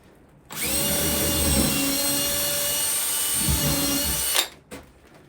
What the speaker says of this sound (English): We're going to drill a hole, 2 holes.